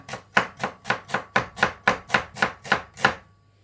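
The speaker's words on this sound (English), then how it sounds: "Just chop it in half, and then we just cut it finely." A knife finely chops an onion on a board, with eleven crisp, evenly spaced cuts in a steady rhythm, close and clear, ending in quiet.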